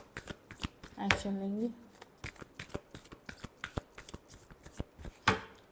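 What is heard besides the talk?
shuffling tarot cards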